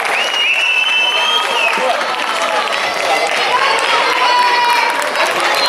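Football supporters at a championship match clap and cheer in a dense, sustained wash of applause, with whistles and a voice heard over the crowd.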